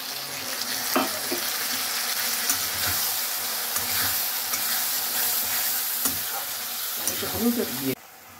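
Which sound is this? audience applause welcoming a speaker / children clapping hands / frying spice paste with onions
frying spice paste with onions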